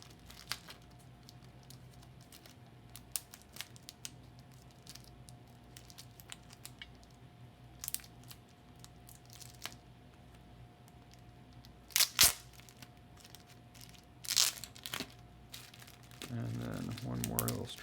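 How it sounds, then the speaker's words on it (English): Strips of tape being peeled off an electronic unit, with scattered crinkly tears and crackles over faint room hiss, a louder crinkling burst near the end. "let's see if we can peel open this unit. It's got some tape here."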